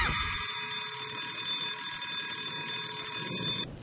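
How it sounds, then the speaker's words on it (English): A thief alarm rings in the horror video game White Day, a steady, loud electronic tone with layered high pitches that holds for several seconds and then cuts off abruptly. "That is what the thief alarm is for."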